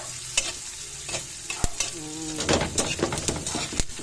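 Onion and garlic sauté in a pan, giving a steady sizzle under a series of clattering utensil strokes and scrapes that grow busier toward the end, all close-up with no speech.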